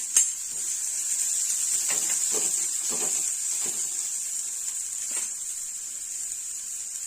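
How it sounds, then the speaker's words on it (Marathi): Onion frying in a spoonful of hot oil for corn Schezwan fried rice, a steady close sizzle and hiss throughout with a few soft stirring scrapes and clinks of a pan. "तेल व्यवस्थित गरम झालं की यामध्ये आपण घालणार आहोत कांदा"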